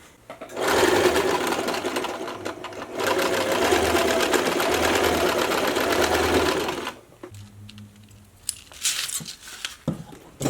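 Sewing machine stitching a side seam of a prom gown, running in two long steady whirring bursts with a brief pause between, close and loud, then stopping with some light handling clatter afterwards.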